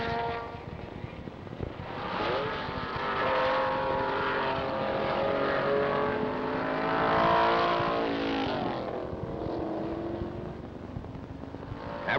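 Can-Am race cars, among them a McLaren, race at Road America in 1970, their engines roaring loud and sustained with rising and falling pitch as they pass and shift, with no talk.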